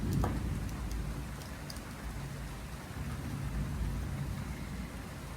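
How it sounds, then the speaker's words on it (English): Steady rain pours down in a broad, even hiss with a faint low rumble beneath and a few sharp droplet ticks near the start, heard alone without voices. "The sound of rain. It's so relaxing."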